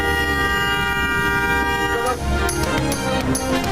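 Dense street noise in Karachi with car horns honking repeatedly over a steady roar of traffic and crowd during a protest against petroleum price rises, loud and continuous, with sharper blasts near the end.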